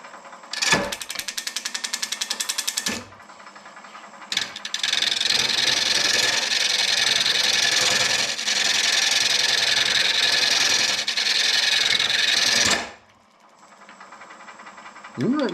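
A gouge cuts a mesquite bird's mouth bowl on a wood lathe, a loud, harsh, sustained scraping roar with rapid chattering at the start and a brief gap, then cutting out near the end.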